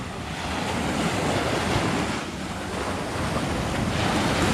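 Sea waves rolling onto Chaweng Beach on Ko Samui, Thailand, a steady loud wash of surf with wind noise buffeting the microphone throughout.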